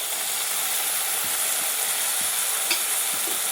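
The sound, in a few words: idli manchurian sauces frying and stirred in pan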